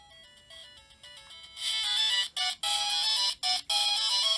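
A bootleg 999,999-in-1 gaming console plays its startup jingle, a bright electronic chiptune melody that starts quietly, then bursts louder with a few abrupt gaps between phrases, heard alone and close.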